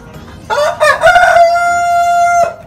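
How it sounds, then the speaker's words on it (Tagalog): A rooster crows loudly and close by, a rising call that holds a long, steady note, preceded by a few clucks from caged chickens. "Ingay ng manok"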